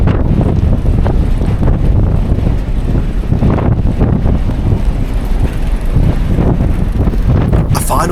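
Strong Mediterranean wind on an open ferry deck at night, loud gusty roaring and buffeting against the microphone, continuous and close.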